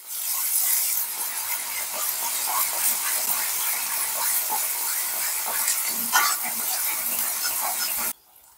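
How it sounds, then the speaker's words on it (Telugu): Onion paste with curry leaves being stirred as it fries in oil, a soft steady hiss with scraping and rubbing of the spoon against the pan, close, cutting off abruptly at the end. "ఇప్పుడు ఇందులో ఈ ఉల్లి ముద్ద వేసుకుందాం. ఇది ఒకసారి కలుపుకుందాం అండి"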